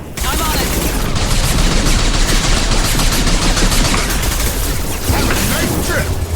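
Rapid automatic gunfire in a Mass Effect 2 Legendary Edition firefight: dense, loud, unbroken bursts packed together from start to finish.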